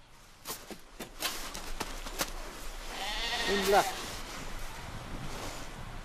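A single sheep bleats briefly midway through, partly masked by wind and outdoor rumble in snowy conditions.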